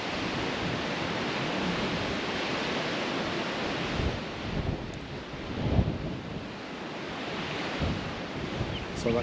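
Wind and whitecapped waves batter a stormy Lake Colac in Victoria, giving a steady roar of gusting wind and breaking water with microphone buffeting, swelling in louder surges midway; no voices.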